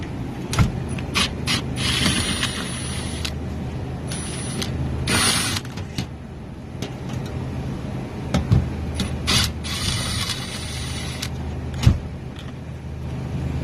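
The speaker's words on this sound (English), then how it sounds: "we're just gonna take all the screws off first" Screws being backed out of the brackets holding a produce-case evaporator coil, giving intermittent mechanical clicks, ratcheting and metallic rubbing with several sharper scrapes and bursts, close up and fairly steady across the stretch.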